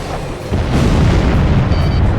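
A missile explosion in Ace Combat Zero rolls out as a heavy, sustained low boom that swells and holds loud for about two seconds.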